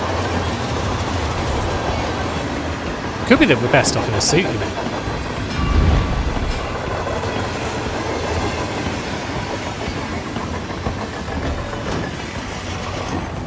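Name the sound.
moving train interior in Hitman video game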